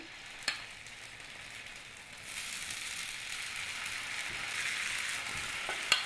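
Spoonfuls of fritter batter sizzle in hot oil in a pan, a steady hiss that grows slightly louder as more batter goes in, with a couple of small clicks of a spoon against the pan.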